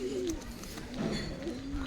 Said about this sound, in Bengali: খুব সুন্দর পায়রাগুলো, সবই এক একটা দারুণ দারুণ পায়রা।